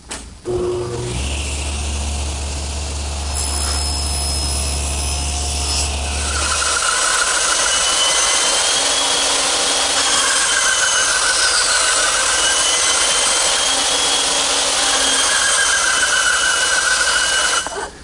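A bandsaw cutting away waste from wood tenons, a steady loud mechanical whir with a low motor hum at first, then a sustained rough blade-in-wood roar that carries on without pause.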